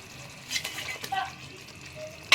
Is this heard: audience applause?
no